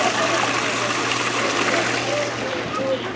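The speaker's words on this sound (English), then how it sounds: "I like a little waterfall here." A small waterfall in a little mining area at Reptile Gardens splashes in a steady, close rush of falling water, with a low hum underneath.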